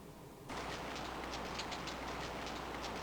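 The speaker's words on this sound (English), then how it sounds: "It starts to rain." Rain begins in King's Quest VI, a steady hiss of falling rain that switches on abruptly and continues evenly at a low level.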